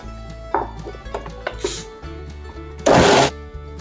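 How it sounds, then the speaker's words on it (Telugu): A mixer grinder blends mung dal batter with yogurt in a short, loud whirring burst near the end, after scattered kitchen clatter and taps. "తర్వాత ఒక 2 స్పూన్లు పెరుగు వేసుకుని మళ్ళీ ఒకసారి మిక్సీ పట్టేద్దాం"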